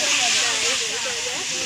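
Food frying for chicken biryani gives a loud, steady sizzling hiss that lasts throughout, with a faint voice barely audible underneath.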